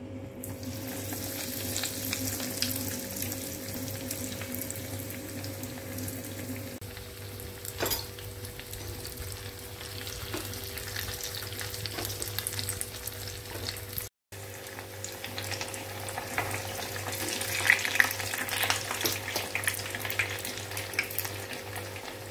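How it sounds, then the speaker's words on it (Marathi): Breadcrumb-coated cutlets shallow-frying in oil, a soft steady sizzle under a low background hum, with a brief cut partway and occasional faint clicks, no talking. "आता आपण फ्राय करू।"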